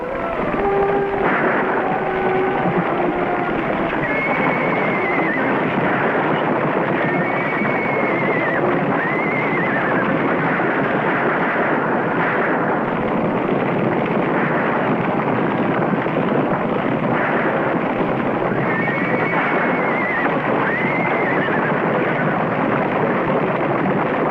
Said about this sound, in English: Stampede! Take cover, Mr. McNabb!